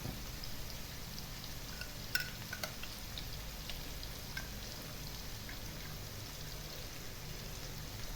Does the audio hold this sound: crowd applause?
no